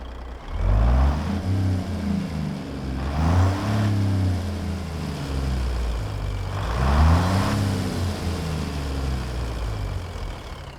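A C-Mod 625 truck engine in American Truck Simulator runs steadily up close, a low heavy rumble with periodic rises in pitch and load as the motor works, continuous and alone with no talk.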